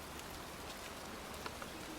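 Rain falling outdoors in a cemetery, a faint, steady hiss with occasional soft drop taps, heard alone without any voices.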